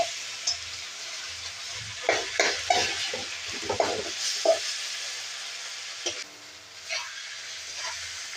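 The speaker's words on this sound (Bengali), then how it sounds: "মাথাগুলো একদম লাল লাল করে ভাজা হয়ে গেল, খুব সুন্দর।" Fish heads frying in a pan as a spatula breaks them up, giving bursts of sizzling and scraping strokes between about two and five seconds over a steady quiet hiss, then a few scattered stirs.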